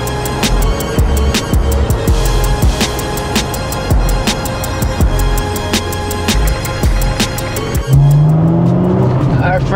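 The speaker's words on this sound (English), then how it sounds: "car sounds so much better, literally 100 times better than when we had the first MagnaFlow exhaust." Supercharged Acura NSX with an upgraded exhaust on its first test drive, a loud engine pulling and shifting with sharp clicks and a brief tire chirp near the end, while people talk over it.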